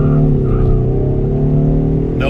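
A rental car, from a lineup of F150, Mustang and Wrangler, accelerating hard from a launch with a loud, steady engine drone rising slightly in pitch over a couple of seconds.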